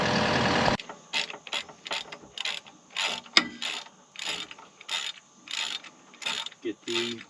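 Grease gun being pumped into a skid steer track adjuster, a steady series of rhythmic clicking, squeaking strokes, close and distinct, roughly a dozen repeated pumps in a row.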